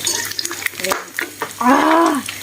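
Chicken drumsticks fry in hot oil with a steady crackling sizzle and a few sharp pops, while a voice talks over the frying.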